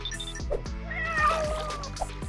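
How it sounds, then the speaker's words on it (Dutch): A cat meows several times in short, clear calls over a soft background with faint trickling water, close to the listener. "Kitty Kitty, kom bij ons"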